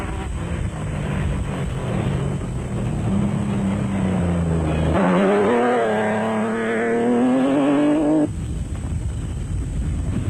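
Off-road race vehicles, a Toyota and a Nissan production vehicle, racing at the 2003 Tarkastad off-road race in South Africa; loud engine roar rises and falls in pitch as they pass, continuous throughout, ending with a sudden drop.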